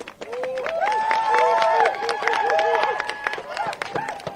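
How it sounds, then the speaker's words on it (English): Outdoor crowd at a justice march rally in a park applauding themselves, a short burst of clapping and babble with voices and whoops over it, fading toward the end. "Give yourselves a round of applause."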